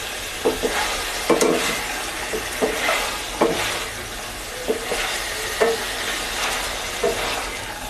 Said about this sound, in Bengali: মশলাটা ভাজা ভাজা হয়ে আসলে আমি এবার ডিমটা দিয়ে দেব।